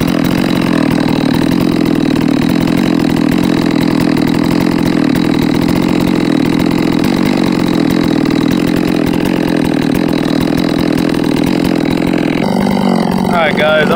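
Chainsaw with a 28 inch full chisel bar running steadily while bucking firewood, a loud continuous buzzing engine drone that stays close and constant, with a brief change in tone near the end.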